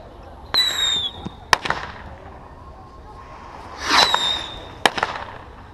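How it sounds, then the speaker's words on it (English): Backyard Fourth of July fireworks burst in two loud volleys, each a sharp crack followed by crackling and whistling fizz, with a lull of ambient noise between them. "Fireworks coming at me and shit."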